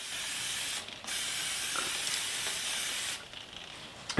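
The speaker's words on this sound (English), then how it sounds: "And then hit it with some brake clean." Brake cleaner hisses from an aerosol can onto the rear hub of a Mazda CX-30 in two close, steady bursts, the first long and the second briefer after a short gap.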